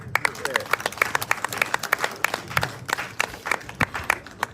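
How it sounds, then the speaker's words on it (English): A small crowd clapping at a village outreach gathering, individual claps distinct and uneven rather than a smooth wash, close and fairly loud, with voices faintly underneath. "a louder round of applause."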